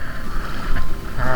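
Wind gusts and water movement on a rough, choppy sea with rain, forming a steady, broadband wash that swells and fades, with no voices.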